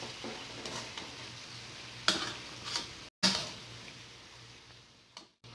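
Roasting chicken in a covered pan being flipped: soft sizzling under scattered metallic scrapes and clinks of a utensil against the pan, with a brief lid-like knock, close and moderately quiet.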